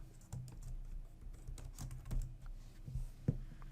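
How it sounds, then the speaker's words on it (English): Soft, close keystrokes tap on a computer keyboard as a name is typed into a text editor, a short uneven run of clicks with no talking. "Go ahead and type in your first and last name."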